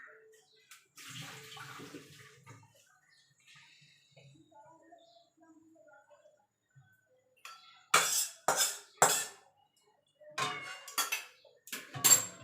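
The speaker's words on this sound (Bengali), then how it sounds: "নামিয়ে আর একটা কড়াই বসিয়ে দেবো তরকারিটা রান্না করার জন্য" Metal cookware clanks sharply in a home kitchen as a pot of cooked jackfruit is set down and a wok is placed on the stove, a cluster of loud knocks and rattles after quieter shuffling and trickling water.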